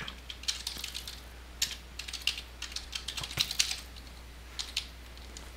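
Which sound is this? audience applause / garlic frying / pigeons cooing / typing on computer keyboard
typing on computer keyboard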